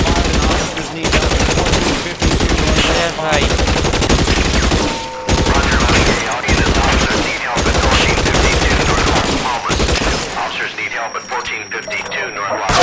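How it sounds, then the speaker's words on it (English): Loud, repeated bursts of gunfire in L.A. Noire, rapid shots in clustered volleys with short gaps, mixed with game voices and a police radio, tapering into quieter ambience at the end. "Shots fired."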